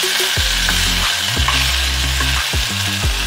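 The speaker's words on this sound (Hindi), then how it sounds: "हमारी भिंडी जो है फ्राई हो रही है" Okra (bhindi) fries in a pan with a loud, steady sizzle, overlaid by repeated scraping strokes from stirring and no voices.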